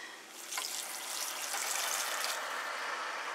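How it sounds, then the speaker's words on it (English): Stock poured from a container into a pan while making turkey and stuffing spiral meatloaf, a steady close splashing gush that starts after a brief pause and continues without talk. "I'm going to add about 2 cups of this, 4 cups of stock."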